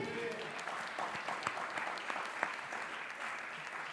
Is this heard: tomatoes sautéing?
no